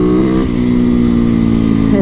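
A motorcycle engine roars loud and close, holding a steady throaty drone with a slight rise in pitch as it accelerates.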